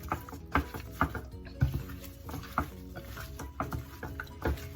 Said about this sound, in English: I'm just using my gloves because I want to be able to massage all my spices into my meat